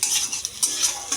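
Green chillies sizzle in hot oil with garlic and chopped onion while a spoon stirs and scrapes the pan in a steady, close, busy rhythm.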